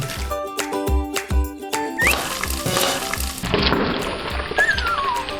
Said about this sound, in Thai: ที่มันกระเด็นเนี่ยคือน้ำที่อยู่ในเบคอนความชื้นอะ